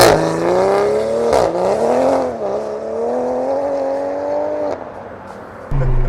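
A 530 whp Toyota Supra MK5 accelerates on a drive, its loud, close engine droning steadily with a slightly wavering, rising pitch before cutting off sharply near the end.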